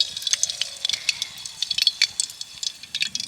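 Besan-battered eggplant slices for crisp, puffy beguni drop into hot oil at home, giving a steady close crackle of dense, irregular sizzling pops with no voices.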